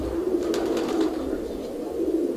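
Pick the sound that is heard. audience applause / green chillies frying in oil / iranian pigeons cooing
iranian pigeons cooing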